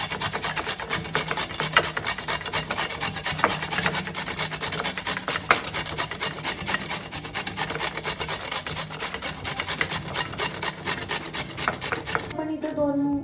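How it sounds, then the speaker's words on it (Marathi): Steady, close rasping of radish being grated on a hand grater into a bowl, a continuous rhythmic scrape without pause, with a brief change of sound at the very end. "किसणीमध्ये आपण आता मुळा किसून घ्यायचा आहे।"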